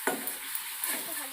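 Spice masala for chicken curry being stirred in a pan, made with cumin, coriander and Kashmiri chilli powders, with a spoon scraping and clinking against the pan over a soft sizzle.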